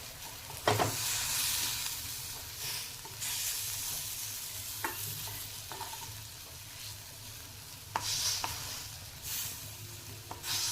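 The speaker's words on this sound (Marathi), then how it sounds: "थोडा क्रश करून घ्यायचा बटाटा खूप मोठे तुकडे नको" Boiled potatoes being crushed and stirred in a hot pan for batata bhurji, with soft sizzling, a steady scraping of a spoon, and occasional sharper clinks against the pan, with no talking.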